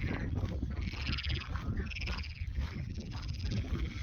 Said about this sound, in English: You hear those frogs?